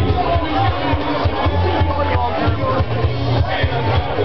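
A festival crowd at a crawfish festival in Jackson, Mississippi chatters in a dense, continuous outdoor babble, with voices overlapping loudly throughout.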